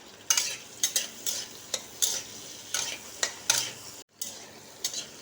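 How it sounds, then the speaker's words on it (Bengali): Capsicum, beans, carrot, tomato and green chili frying in a pan, with a soft continuous sizzle and repeated scraping stirs of a utensil against the metal, close and irregular, pausing briefly near the end. "এটাকে হালকা ফ্রাই করে নেব।"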